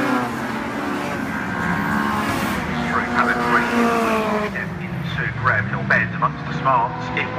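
Race cars lapping the Brands Hatch circuit in a BRSCC race, heading into Graham Hill Bend, with engines rising and falling as they pass and bursts of tyre noise, heard under continuous commentary.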